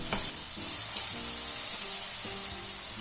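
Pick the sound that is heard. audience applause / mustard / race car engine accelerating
mustard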